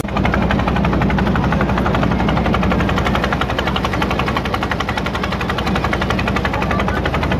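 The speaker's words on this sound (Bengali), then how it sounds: "নৌকা প্রচুর সাউন্ড" A motor boat's engine roars loudly and steadily at close range on a river trip in Sirajganj, a dense, continuous drone that fills the whole stretch without pause.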